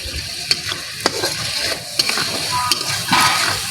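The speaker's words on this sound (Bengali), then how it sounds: "মশলাটা ভেজে নেব" Spices fry in hot oil in a pan with a loud, close, continuous sizzle, while a spatula scrapes and taps against the pan every second or so.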